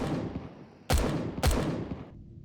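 Base defense turrets fire in the Empyrion survival game, giving two sharp, loud gunshot blasts about half a second apart, each trailing off into a short ringing decay over a low ambient hum.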